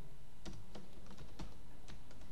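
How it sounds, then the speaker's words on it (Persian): Keys tapped on a computer keyboard while typing text in MS Word, a handful of sharp, separate clicks at an uneven pace, close and fairly quiet, with no talking. "مربوط به پغمان هم نوشته خود تایپ میکنیم"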